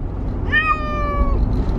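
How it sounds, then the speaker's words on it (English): A cat gives one clear, drawn-out meow lasting nearly a second, close and fairly loud over a low background rumble, with no talking, likely in a car on the way to the vet. "She's just such a cute kitty."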